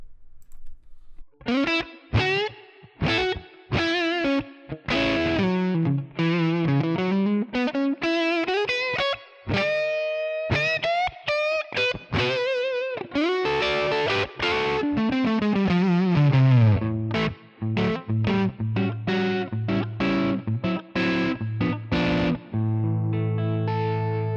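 A Les Paul electric guitar through a crunch amp model on a Tonex One pedal, now with reverb added, plays loud distorted melodic lines, bends and chords, with notes trailing into a reverberant tail before gated pauses.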